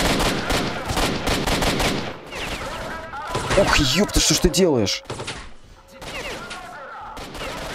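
Shotgun blasts from a sawed-off shotgun in S.T.A.L.K.E.R.: Shadow of Chernobyl, mixed with rapid gunfire bursts and a crash, loud and dense, while players talk and exclaim over the shots.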